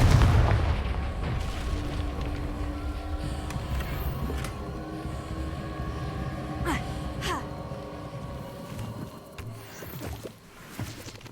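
A Confringo explosion spell goes off in the video game Hogwarts Legacy, with a few sharp blasts and booms over steady game music and ambience.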